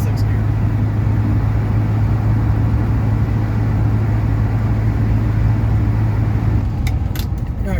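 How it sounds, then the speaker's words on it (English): An LS1-swapped 1970 Buick GS cruises at about 2500 RPM and shifts into sixth gear, a steady loud low engine drone heard from inside the car, with a brief rattle near the end. "cruises about 2500 RPM, and again, let the RPM drop, goes right into 6th gear"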